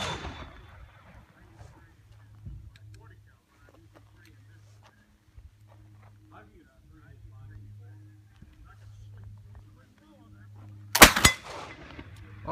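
A single loud, sharp blast from a Lyman .54 caliber flintlock rifle fired at a target near the end, after a long stretch of faint outdoor background with quiet talk.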